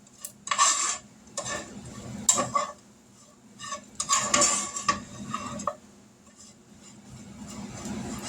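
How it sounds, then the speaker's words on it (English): Hash browns are stirred into sausage in a pan on a burner, with several bursts of spatula scraping and metallic clanking against the pan over faint sizzling, and quiet pauses between the strokes. "we're going to mix these in with the sausage"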